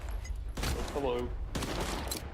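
Gunfire in S.T.A.L.K.E.R. 2 comes as two short volleys of shots a second apart, loud and close, with someone speaking between and over them.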